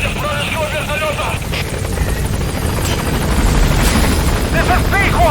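An enemy helicopter in Metal Gear Solid V rumbles steadily throughout, growing louder toward the end, under radio chatter and voices, with bursts of gunfire-like impacts mixed in.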